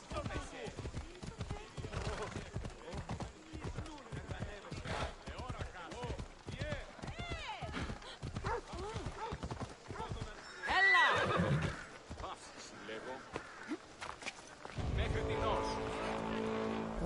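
Rhythmic hoofbeats of a galloping horse pound steadily in Assassin's Creed Odyssey, joined by a shrill whinny, with engine-like game noise and voices talking over it.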